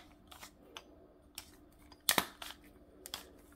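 Plastic threads of a 3D-printed diving torch twisted together by hand, giving a string of short, faint scraping clicks and rasps with a louder crunchy burst midway, close up and with no talking.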